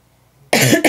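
After a quiet moment, a person lets out two sharp, loud coughs close up, the second shorter than the first.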